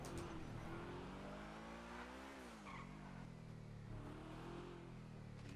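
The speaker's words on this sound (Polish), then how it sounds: "To auto ma tak nijaki dźwięk" A car engine in GTA V roleplay drones and revs up and down with a synthetic, game-like tone, joined by brief tire squeals, steady and continuous.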